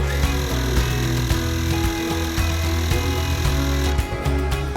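An air compressor runs steadily, pressurizing a Vynyty sprayer pump to 6 bars with a continuous mechanical hum and rattle, loud and close throughout with no talking.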